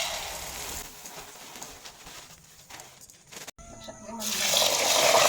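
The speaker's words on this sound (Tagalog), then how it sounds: "So medyo dagdagan natin ito ng tubig." Water is poured onto hard corn kernels in a pot before cooking for corn wine. A soft trickle comes first, then a brief pause, and then a louder, steady rush of pouring water builds toward the end, close by.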